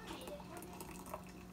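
Coffee from a French press being poured into a cup, a soft continuous liquid stream with faint drips, fairly quiet and steady with no talk over it.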